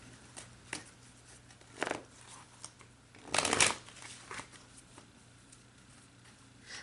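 Tarot cards are shuffled by hand in a quiet room, with short riffling bursts and soft taps spread irregularly, the loudest riffle near the middle, and no voice over them.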